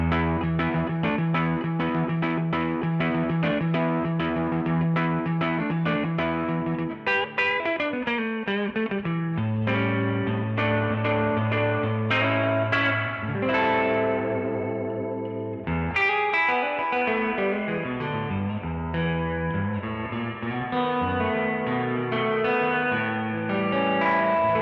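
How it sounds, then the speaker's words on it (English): Electric guitar through a Benson amp with a Keeley digital spring reverb emulation: chords and single notes played continuously for about twenty-five seconds, each trailing into a lush reverb tail, loud and close, with no talking. "This is a digital reverb that Keeley came up with for us. And it's a spring reverb emulation."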